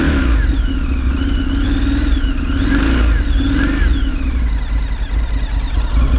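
A Morbidelli T1002VX motorcycle's V-twin engine rumbles loudly and steadily from close by the exhaust, with a few rising and falling throttle blips over the deep, continuous drone.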